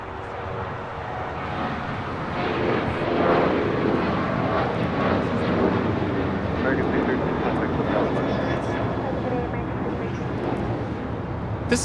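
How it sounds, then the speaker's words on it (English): An American Airlines Boeing 737-800 taking off from LAX, a broad continuous engine roar that swells and holds steady, with people talking over it throughout. "613 taking off to Chicago O'Hare on a 737-800"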